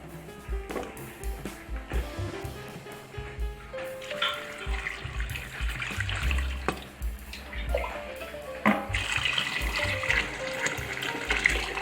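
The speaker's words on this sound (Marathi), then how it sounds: "नंतर मी स्वच्छ पाण्याने धुवून घेणार आहे" Chopped carrots are washed in clean water, with repeated splashing and sloshing in bursts that grow louder toward the end. No one speaks.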